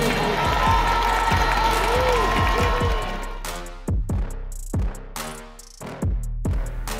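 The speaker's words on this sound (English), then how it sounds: "A big round of applause for Kaitlyn Nelson." A stadium crowd at an athletics meet cheers and applauds in a loud, roaring wash. It gives way to choppier bursts of cheering with a voice over the noise.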